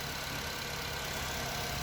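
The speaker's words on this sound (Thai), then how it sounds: "เราก็มาสตาร์ทเครื่อง รถคันที่ มีแบตนะครับ" A car engine idles after being started during a battery jump-start, giving a steady, even mechanical hum and rumble without revving.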